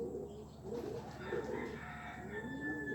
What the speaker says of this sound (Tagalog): Sandali mga boss, may ibon.